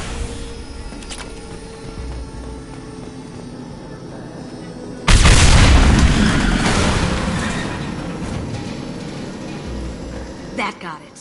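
Tanks explode in the video game Mass Effect Legendary Edition, a sudden loud broadband blast that rumbles and slowly fades over ambient game noise, following a quieter stretch.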